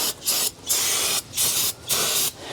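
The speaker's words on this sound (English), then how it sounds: "let's just gonna spray these with brake cleaner." Several loud, close aerosol hisses as brake cleaner is sprayed on the rear brake assembly of a 2011 Honda Pilot, four bursts of roughly half a second each, regularly spaced, with no voices.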